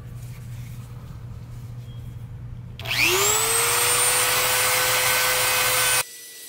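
Dremel rotary tool spinning up to a high steady whine while grinding a washer for C5 Corvette seat track repair, loud and close for about three seconds before cutting off, over a low background hum.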